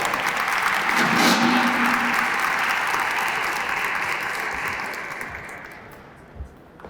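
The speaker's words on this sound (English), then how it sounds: "Your applause, please." An audience applauds at a Black History Month closing ceremony honoring community figures, a loud full wash of clapping that stays steady, then gradually fades toward the end.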